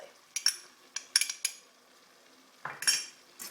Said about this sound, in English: Just stir that in to the meat, just adding little bits at a time